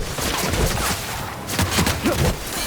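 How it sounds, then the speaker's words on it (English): Gunfire from an exchange of shots in The Outer Worlds, a rapid series of sharp reports and bursts that rise and fall in close, steady succession with no talk over them. "Returning fire!"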